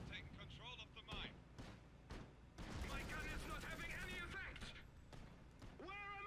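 Battle gunfire in the Iron Harvest video game: a series of sharp cracking shots and explosive bursts, some in quick succession, with a dense stretch of rumbling fire midway, under game voices and chatter.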